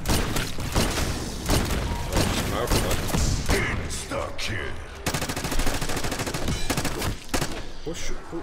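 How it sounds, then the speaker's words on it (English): Laser gun firing in Black Ops 6 Zombies, rapid repeated blasts mixed with thuds and mechanical clanks in a busy battle, with players talking over the shooting throughout. "Try the laser gun, let's go."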